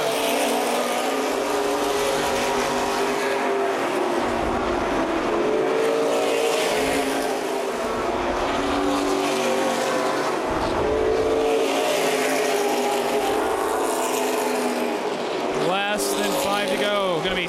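CRA Super Series race cars roar around M-40 Speedway, a sustained loud engine drone with rising and falling passes and revs, heard under a continuous announcer's commentary.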